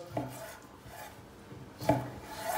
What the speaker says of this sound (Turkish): Hemen tavuklarını doğrayacağız.